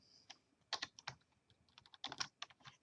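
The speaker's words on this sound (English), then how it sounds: "So I'm going to go ahead and type in the username" Someone types a username on a computer keyboard: a short, quiet run of close key clicks in two small clusters with a brief gap between them.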